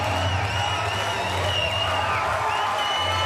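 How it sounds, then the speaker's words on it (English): Arena crowd cheering and whooping for Egyptian para powerlifter Rehab Ahmed, gold medal winner in the women's up to 55 kg event at the Paris Paralympics; a steady roar with whistles, no clear speech. "The crowd acknowledging the gold medal winner from a country who excel in powerlifting"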